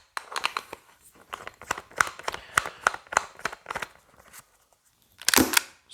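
A suppressed airsoft pistol gives a run of muted, snappy clicks and clacks in an irregular rhythm at close range, ending with a louder burst of rattling.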